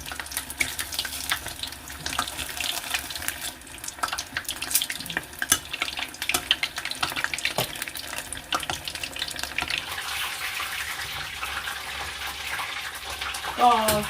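Fish fried in hot oil over fairly high heat for homemade fish and chips, a dense bubbling sizzle with watery crackle and clatter, a brief scrape near the end, no speech.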